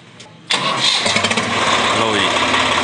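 A Swaraj 855 tractor engine cranks and catches after a short quiet pause, then settles into a loud, steady diesel idle close by, with a voice talking over it.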